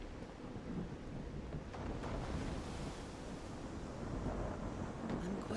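Thunderstorm ambience in the video game Call of the Sea: a steady, loud wash of rain and rumbling thunder that rolls on throughout without a break, with no talking.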